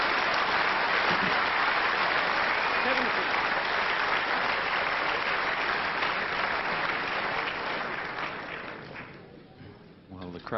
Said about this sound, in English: Well, the crowd knew this one was in before we did, Dennis.